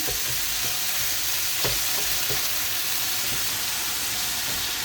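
Bitter gourd fries in hot oil with a loud, steady close-up sizzle and hiss, with a few faint stirring knocks against the pan and no voices.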